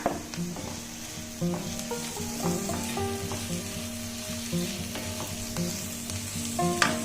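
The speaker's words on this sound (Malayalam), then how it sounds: "അപ്പൊ നമ്മുടെ സവാളയൊക്കെ ശരിക്ക് വഴറ്റി വന്നിട്ടുണ്ട്. ഇതിനകത്തോട്ട് നമുക്ക് ഈ പച്ചമുളക് ചേർക്കാം." Onions and green chillies sauté in a pan with a steady close sizzle, broken by frequent scraping and clanking as a spoon stirs against the metal, and no speech.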